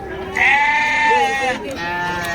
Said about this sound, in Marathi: अशा प्रकारच्या मेंढ्या आणि बालिंगे तुम्हाला पाहायला मिळते